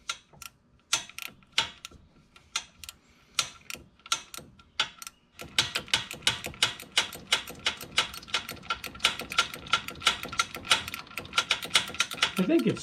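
A wrench clicks on a fastener of a John Deere X729 mower, first in sparse separate ticks and then in quick, steady ratcheting, close by.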